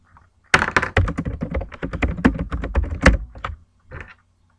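Rapid, continuous typing on a computer keyboard, dense clacking keystrokes with heavier thunks for a few seconds, then a pause and a short final burst, close and loud.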